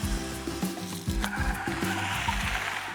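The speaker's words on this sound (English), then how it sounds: "The tyres, however, don't hold up to its capability and squeal in protest even in medium corners" Tyres of a Jeep Compass Trailhawk squealing through medium-speed corners on a test drive, a sustained high-pitched screech layered over a loud, rising and falling engine drone, continuous and close.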